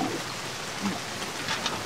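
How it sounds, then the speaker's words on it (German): Rain patters steadily as a sound effect in a German children's radio play, a soft, even hiss of falling drops without any voices. "Aber jetzt reicht es langsam mit dem Regen."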